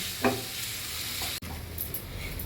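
An oats filling sautés in a pan with a low, steady sizzle and a few soft stirring scrapes, fairly quiet and close, with no talk.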